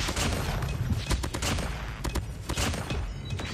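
Rapid automatic AK47 gunfire in a video game, with dense bursts of sharp shots rattling almost without pause, loud and close for several seconds, and no talk over it.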